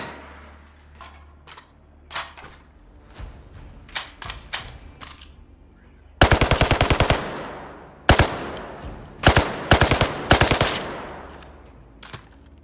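Rapid bursts of virtual gunfire from a VR shooter game on Oculus Quest, with scattered single shots giving way to loud, sustained automatic volleys in several clustered strings.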